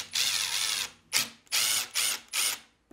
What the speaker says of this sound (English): All you have to do is remove the 2 lower screws